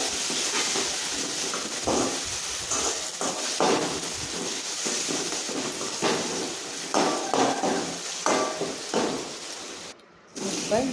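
Onions sautéing with ginger garlic paste in a pan, with scattered clinks and scraping taps of a utensil against the pan over a steady low sizzle.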